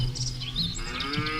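Cattle low in a grassy field, a near moo held steady for over a second while crickets and birds chirp faintly behind it.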